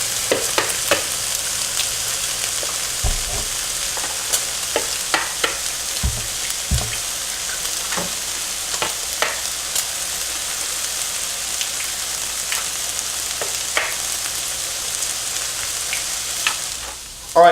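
Peppers and bacon fry in a pan with a steady, dense sizzle and crackle, punctuated by occasional pops and spatula scrapes, heard up close with no talking.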